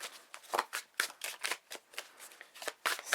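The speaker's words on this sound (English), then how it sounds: "let's give these cards a nice little shuffle out" Steampunk tarot cards are shuffled by hand in a quick, close, crisp run of riffling bursts and soft flicks, with no talking over them.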